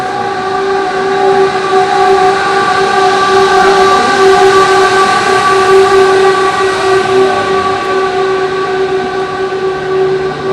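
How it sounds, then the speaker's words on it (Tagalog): A KTX bullet train runs steadily on its rails in Korea, its loud sustained roar and humming whine continuous throughout with no voices. "Alam ko, bullet train din yan eh."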